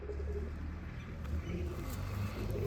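Pigeons cooing on a rooftop, a low steady murmur of repeated coos close by, with faint traffic in the background.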